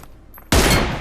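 A sniper rifle shot fires in the mobile battle royale game BGMI, a sudden loud crack halfway through that rings out over a quiet lead-in.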